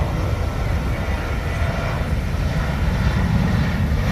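An airplane takes off at Jeju Airport, heard from the observation deck: a loud, steady, broad roar of engines fills the whole stretch without letup.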